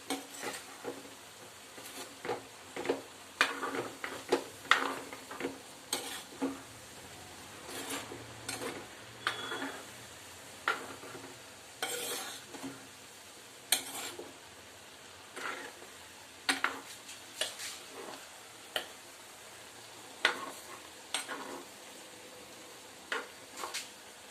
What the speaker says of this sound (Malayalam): ഇനി ഇതിങ്ങനെ ഇളക്കി ഇളക്കി നല്ല ഡ്രൈ ആക്കണം